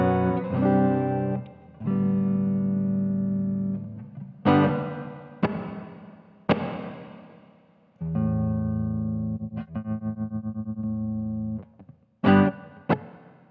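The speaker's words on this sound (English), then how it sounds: "Then we're into the reverb." Electric guitar played through an Ammoon PockAmp headphone amp with its plate-like reverb engaged: sustained strummed chords and sharp single hits that ring out with a smooth, washy tail, alone with no talking.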